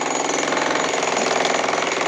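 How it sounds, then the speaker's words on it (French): A jackhammer pounds concrete at a work site in Greece, a loud, close, continuous rapid hammering that keeps an even, rattling rhythm throughout. "ils bossent avec un marteau-piqueur"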